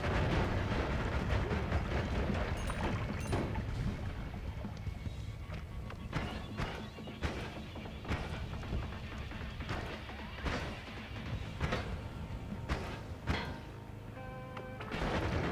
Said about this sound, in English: The downside of all these explosions are that you can't really see where the walls are anymore.